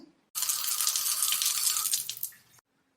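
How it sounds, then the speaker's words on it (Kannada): Water pours in a steady loud rush for about two seconds, starting abruptly and cutting off, with near silence around it. "ಏನ ಹಿಂದ ನೀರಿನ ಸೌಂಡ್ ಬರತ್ತದಲ್ಲ"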